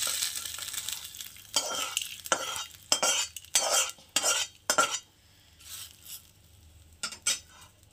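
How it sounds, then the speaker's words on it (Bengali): Hot tempering is poured into ground beetroot chutney and mixed with a series of rhythmic spoon scrapes and clanks against the bowl, some accompanied by brief sizzle, ending in a few faint strokes. "এই যে বিটরুটটা বেটে রেখেছিলাম এই ফোড়নটাকে আমি এটার মধ্যে ঢেলে দেবো"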